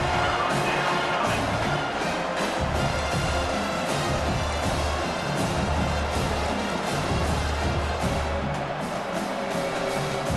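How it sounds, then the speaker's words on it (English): Stadium crowd noise in EA Sports College Football 25 during a red-zone defensive stand, a dense, steady roar of cheering fans that swells and holds throughout, with no clear talk over it. "the crowd coming to life here, trying to help this defense down in the red zone"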